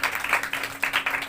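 A crowd at a gathering bursts into brief, lively applause, dense overlapping hand claps in quick uneven bursts.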